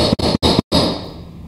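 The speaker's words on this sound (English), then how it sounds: "Always knocking out the spent cake." A spent espresso puck is knocked from a portafilter: three sharp knocks in quick succession, each separated by a brief silence, followed by a lingering clattery ring that fades out.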